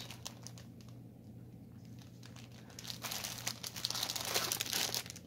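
The plastic packaging of pre-stamped cross stitch kits crinkles and rustles close by, faint at first and then louder and busier toward the end, with no talk.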